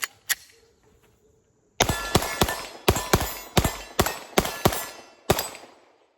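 Pistol shots from a Sig P320 or Glock 19 Gen 5 at a range: one early shot, a pause, then a fast string of about nine loud, sharp, evenly spaced reports with ringing decay.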